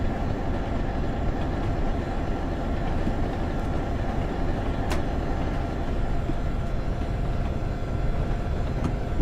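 Simulated Boston & Albany Railroad train held near 50 mph in a train simulator game, a steady, dense rolling rumble of wheels and engine throughout, with one brief sharp click midway and no talk.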